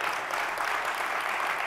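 Audience applause fills a conference hall, steady dense clapping from many hands with no pause, no voices over it.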